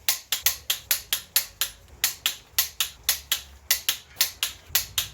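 A torque wrench on the cylinder head bolts of a 351W V8, a rapid even series of sharp ratchet clicks, around two dozen, close and loud with brief pauses.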